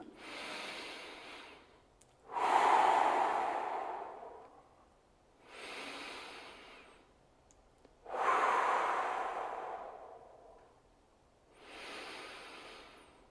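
Slow, deep breaths during a seated neck stretch, tilting the head: five audible breath cycles alternating longer airy exhales with softer inhales, close and fairly quiet with no talking.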